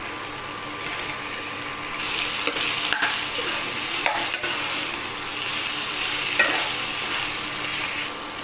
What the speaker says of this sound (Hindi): फिर गाइस इसके अंदर आलू डालने हैं